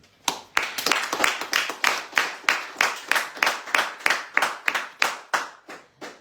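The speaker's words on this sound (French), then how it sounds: "Alors, on peut les applaudir." A small radio studio audience claps together in slow, evenly spaced, rhythmic beats, loud and close, with no talking over it.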